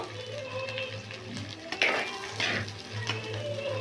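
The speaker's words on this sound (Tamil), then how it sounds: "இது இப்போ பொன்னிறமாக வர வரையும் வறுத்து எடுத்துக்கலாம்" Shallots, onions, garlic and curry leaves fry in hot oil with a steady soft sizzle, punctuated by a few clinks and scrapes of a stirring spoon against the pan.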